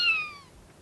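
A kitten gives one short, high meow that falls in pitch and fades into a quiet room.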